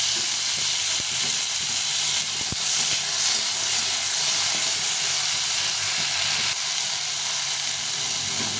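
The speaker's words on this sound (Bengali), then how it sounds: "এই টমেটোটা দিয়ে দেবো, দিয়ে একটু ভেজে নেব।" Tomato hits a hot pan with green chilli and fries with a loud, continuous hissing sizzle, close and steady throughout with a few small pops and no talking.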